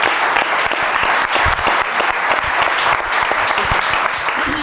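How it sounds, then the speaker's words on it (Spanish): A studio audience gives a singer a loud, sustained round of applause, dense clapping that carries on steadily throughout. "Un fuerte aplauso para ella."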